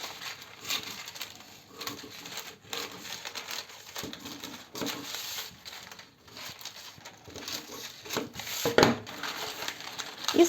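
Burlap fabric pieces are cut together with scissors and handled, giving soft crinkling snips and rustles up close, fairly quiet and irregular.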